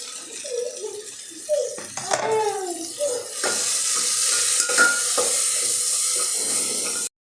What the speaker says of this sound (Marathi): यामध्ये मी ते छान असं फ्राय करायचं आहे